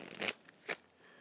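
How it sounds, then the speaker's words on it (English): A deck of playing cards is shuffled at close range, two quick riffling bursts separated by a short pause, otherwise quiet and without voices. "Give it some shuffles."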